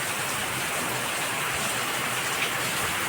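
A steady downpour of heavy rain drums on the ground and rooftops of a rural Gujarati farmyard, an unbroken close wash of falling drops with no talking.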